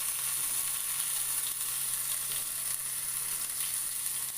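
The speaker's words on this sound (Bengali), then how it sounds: "একটু আদা বাটাটা আমি কষিয়ে নেব" Ginger paste frying in a pan with a little oil for a Bengali chital fish curry, a steady, close, crackling sizzle with faint spattering and no talking.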